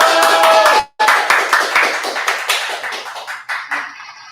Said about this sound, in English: Can we get one more round of applause for Chef Carlos?